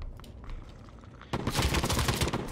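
Sustained gunfire from an anime-girl shooter in the game Anime vs Virus erupts after a quieter stretch, a dense, loud stream of rapid shots running to the end.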